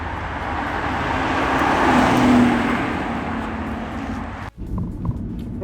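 Aston Martin Rapide S four-door sports car cruising, a steady broad engine and road roar that swells gently midway, then dips abruptly near the end before picking back up; no voices.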